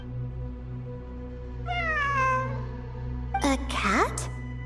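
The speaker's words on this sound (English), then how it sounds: "It really is a cat." A cat meowing in a game scene, a drawn-out meow followed by a second sharper, rising cry over a low ambient hum.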